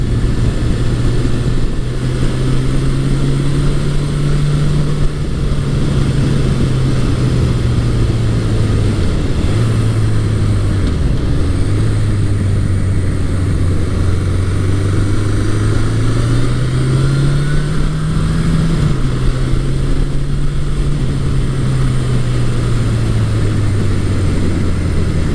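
Suzuki GS1100E (GSX1100) superbike from 1980–1981 being ridden, its engine droning steadily and loud throughout with rising and falling pitch and wind noise, no talk.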